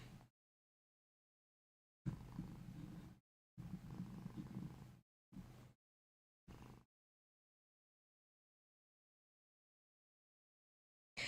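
A cat purring in short, quiet bursts separated by stretches of silence, soft and close to the microphone, with no voices.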